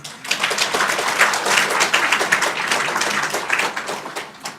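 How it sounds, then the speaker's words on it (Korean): A church congregation bursts into sustained applause during a Sunday service, dense overlapping claps filling the room at steady loudness for several seconds before tapering slightly. "박수 한번 치겠습니다."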